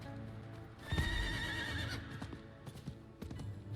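A horse in the Diablo IV video game gives a loud whinny, followed by a run of clip-clopping hoofbeats on hard ground that trail off into scattered steps, with no speech over them.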